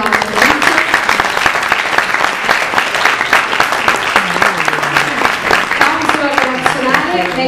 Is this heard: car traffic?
no